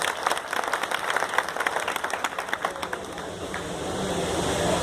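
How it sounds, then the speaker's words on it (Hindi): A crowd of party workers at a Congress gathering in Morar, Gwalior applauds to welcome guests with dense, steady clapping that gradually thins into a broad wash of crowd noise. "तालियों के साथ मैं चाहता हूं सभी कार्यकर्ता स्वागत करें"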